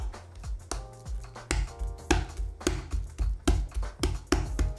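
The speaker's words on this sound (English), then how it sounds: "After chopping, we'll fold it over and smash it one more time." A cleaver smashes and chops raw shrimp meat on a cutting board in quick, sharp, loud whacks, heard close and alone.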